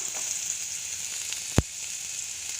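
Mustard seeds, a couple of dried red chillies and chopped onion sizzle in hot oil in a pan, a steady close frying hiss with one sharp pop or tap partway through.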